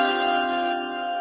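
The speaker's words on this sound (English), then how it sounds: "Let me get the chime." A bright, sustained chime sound effect announcing a pick at an NFL draft, ringing loud and clear on its own and slowly fading, with no voices over it.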